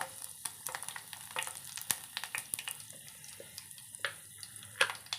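Fenugreek seeds and green chilies crackle in hot oil as a tempering for a Kerala mango pulissery, a close run of sharp, irregular pops and spits with no voices.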